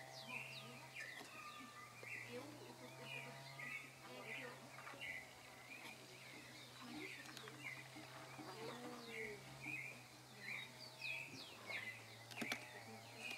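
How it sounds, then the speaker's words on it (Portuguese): Rufous-bellied thrush (sabiá-laranjeira) singing repeatedly in a garden setting, a run of clear, varied whistled phrases that sounds moderately distant, over a steady low hum and background noise, with quiet talking nearby. "E o sabiá laranjeira tá cantando que não para"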